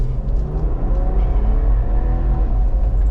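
A 2024 Ineos Grenadier SUV accelerating along back roads, heard from inside the cabin as a loud, steady engine rumble with a rising drone and road noise.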